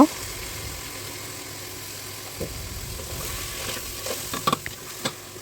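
Pulao rice cooks in a pan as a soft, even sizzle, joined in the last seconds by a few sharp scraping strokes as it is stirred. No voices are heard.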